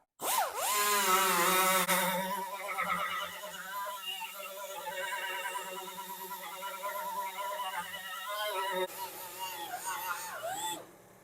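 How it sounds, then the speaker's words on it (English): A power tool fitted with a stripping disc grinds paint off the metal roof of a 1979 Ford F100 pickup, a loud, close whine that rises and falls in pitch as the disc loads and unloads across the panel. "I think what I'm going to do is use one of these stripping discs because it doesn't damage the metal underneath to remove this paint."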